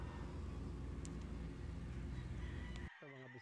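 Chickens on a working farm cluck and crow at a distance, faint under a constant low background hum, with a brief sharper call at the end.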